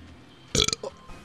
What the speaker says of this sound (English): There's a point when a burp just becomes too pathetic.